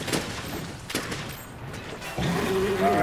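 A charged bowgun shot fires in Monster Hunter World during a four-player Nergigante hunt, a burst of booming blasts with a brief mechanical rattle, followed by a steadier mechanical tone near the end.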